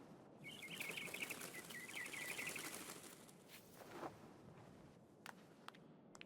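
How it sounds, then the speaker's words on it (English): Chirping birds in the video game Gris, with a few soft calls over a steady, faintly rustling ambient bed and some sharp clicks toward the end. "These birds are friend."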